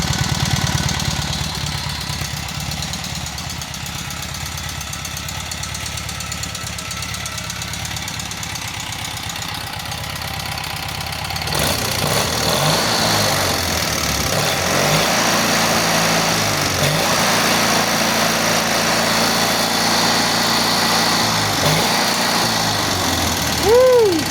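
A freshly rebuilt Kohler KT17 small engine idles just after its first start, with a rough, knocking, lawn-mower-like chatter. It runs quieter at first, then grows louder and harsher partway through.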